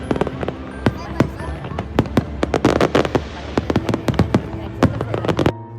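Fireworks at the Sheikh Zayed Festival in Abu Dhabi, a rapid run of sharp loud bangs and crackles over crowd murmur and talk, ending abruptly.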